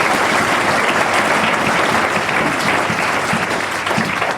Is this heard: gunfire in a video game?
no